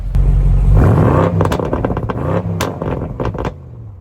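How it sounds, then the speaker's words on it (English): A stock BMW M850 engine idles with a deep rumble, then revs sharply in several quick bursts, loud and close, settling back between throttle blips. "Now it's time for the M850. Remember, it is stock, but it sounds pretty good."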